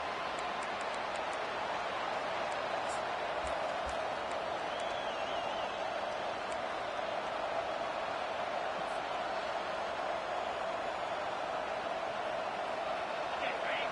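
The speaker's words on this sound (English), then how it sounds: "This crowd, full throat, spreading the eardrums and letting them know it's going to be a long day" A college football stadium crowd in the Week 1 game against Georgia roars continuously just after a kickoff touchback, a steady, washed-out wall of noise that stays even from start to finish.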